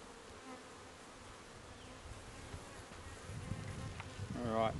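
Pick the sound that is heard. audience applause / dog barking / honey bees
honey bees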